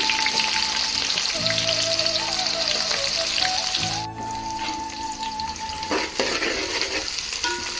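Onions fry in a pan for red bagara rice with a dense, steady sizzle and crackle. A faint tonal whine and some low hum sit underneath, and a short clatter comes near the end, with no one speaking.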